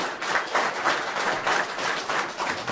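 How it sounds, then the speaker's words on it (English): Applause in a city council meeting chamber, a moderate group clapping in uneven pulses over a few seconds, fairly close and alone without talk. "One more round of applause for them."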